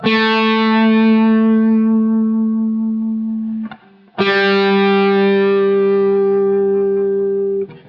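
Sustained electric guitar notes with a gentle, wavering violin-style vibrato, effected and slightly distorted, two long held tones separated by a brief break.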